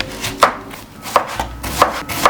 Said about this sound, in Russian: Первым делом нарезаем лук полукольцами.